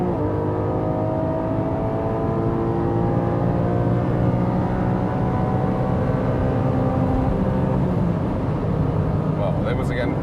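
A Porsche 718 GTS 4.0 on a racetrack holds a steady high-revving engine drone near the rev limiter, loud and continuous throughout, with a voice talking over it.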